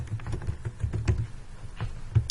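Someone types on a computer keyboard while entering a customer name in accounting software, producing soft, irregular clicks that are close and fairly quiet.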